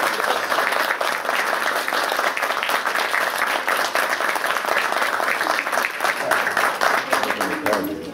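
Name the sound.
audience applause at a graduation ceremony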